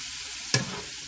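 Peppers and onions frying in a pan with a steady sizzle, broken by one sharp scrape of a stirring utensil near the middle. Nobody speaks.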